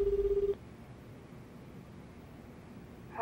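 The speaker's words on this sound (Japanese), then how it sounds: "電話しています。" A phone rings in the Lost Judgment video game, a short, regular electronic trill that stops after about half a second, then quiet low background hum, with a faint rise at the end.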